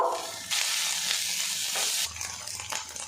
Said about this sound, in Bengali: সামান্য লবণ ছিটিয়ে ভাজা ভাজা করে নেব।